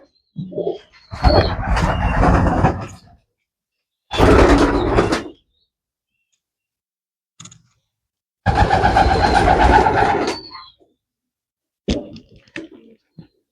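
Pigeons in a loft, in bursts: several loud, close flurries of wingbeats and cooing with scuffling and short quiet gaps between.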